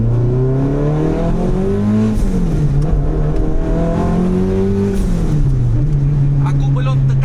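An 800 hp Mitsubishi Lancer Evolution 8.5 MR pulls hard on boost from inside the cabin, its engine droning loud and rising, dipping briefly at shifts before climbing again, with no one talking over it.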